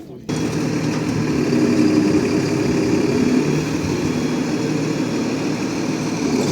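A tractor engine idling in a field before pulling a KUHN plough, starting abruptly and then running loud, steady and close throughout with an even rumbling drone.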